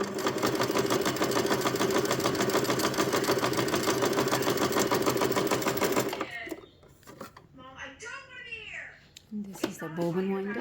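An Elna 120 sewing machine runs at a steady, loud mechanical whir for about six seconds, then stops and a person speaks.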